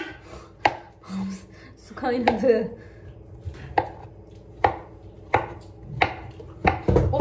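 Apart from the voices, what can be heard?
chopping apples with a knife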